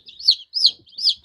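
Newly hatched chicken chicks chirp in a brooder, three clear, high, close peeps evenly spaced within a second or so.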